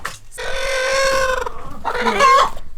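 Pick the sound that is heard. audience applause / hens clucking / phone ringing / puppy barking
hens clucking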